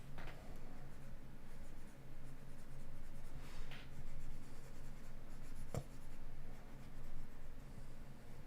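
Steady scratchy scribbling of a stylus pen with a well-worn nib dragging across a Cintiq drawing tablet surface, close and continuous with short pauses and a brief tap near the end.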